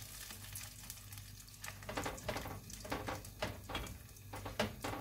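Food sizzling and frying steadily in a pan, with crackling spatters and occasional stirring, close and fairly quiet with no talk.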